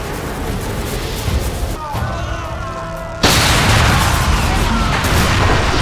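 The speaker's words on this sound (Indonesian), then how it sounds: "Masa pun melempar bom ke arah musuh dan terjadi ledakan dahsyat" In an action film, a loud, sustained bomb explosion erupts after a rumbling, crackling stretch, then roars steadily at high volume until it cuts off abruptly.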